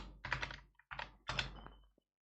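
Computer keyboard typing in three short bursts of rapid clicking, close and fairly quiet, separated by brief pauses before falling silent.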